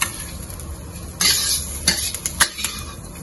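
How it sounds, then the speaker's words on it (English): Onion being tossed in capsicum oil in a wok, heard as metal spatula scrapes and clanks against the pan, a few distinct knocks with brief gaps, light sizzle underneath, no voices. "Now we just need to coat the big onion with the capsicum oil and then take it out."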